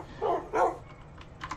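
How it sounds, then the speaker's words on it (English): A dog barks twice in quick succession, close and fairly loud, followed by a few faint clicks of keyboard typing in a quiet room. "What are you barking about?"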